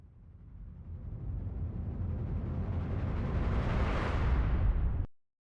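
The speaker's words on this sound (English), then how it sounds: "these are some taiko rolls" Taiko drum rolls used as a transition swell, with the high end cut, build into a thick, rumbling, thunder-like roar that grows louder, then stops abruptly.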